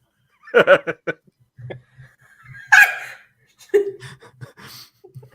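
A voice imitates a duck's quack in a few short, nasal bursts, mixed with chuckling and casual talk among several people.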